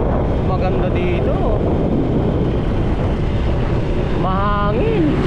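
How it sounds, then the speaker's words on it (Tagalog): Steady wind roar buffeting the microphone throughout on a rural road beside rice fields, with voices talking over it. "Mahangin."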